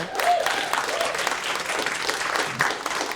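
An audience at a political leadership conference applauds warmly, a dense steady clapping with a few cheers that lasts the whole moment, with a voice briefly heard over it.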